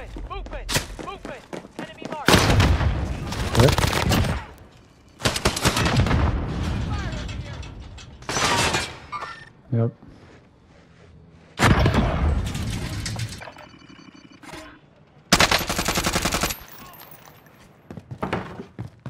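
Sniper rifle gunfire in a video game, several loud, heavy shots and rumbling booms arriving in separate bursts with quieter gaps between them, some talking in the lulls.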